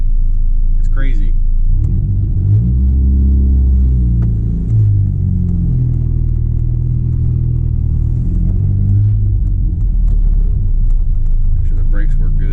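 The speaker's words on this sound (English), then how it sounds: "First time I've ever driven this truck." A 25-year-old project truck, out on the road for the first time since 2015, drives with a loud, close cabin rumble as the engine rises and falls, and someone talks over it.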